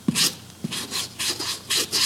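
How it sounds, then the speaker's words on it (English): Product being rubbed onto a boot by hand in brisk repeated strokes, about five close scrubbing bursts with short pauses between. "then you're going to rub that all along the boot"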